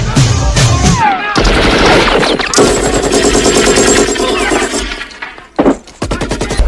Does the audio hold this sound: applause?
no